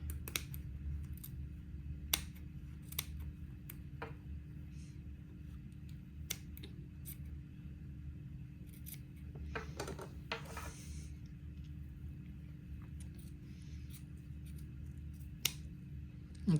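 Fabric is trimmed along a marked line at the edge of a dress seam with scissors, giving sparse, crisp snips scattered over a very quiet background, with a short cluster of cuts partway through.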